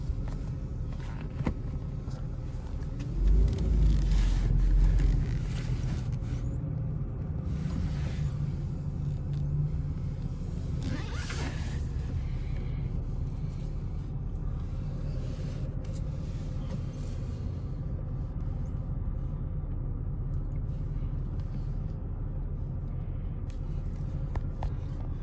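A red 1993 Jaguar XJS with a 5-speed rolls slowly downhill through a parking lot, with a steady low rumble and faint tire noise continuing throughout and no engine revving.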